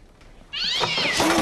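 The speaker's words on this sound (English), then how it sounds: "It was just a cat." A single loud, drawn-out cat meow starts abruptly after a brief quiet moment, close and clear.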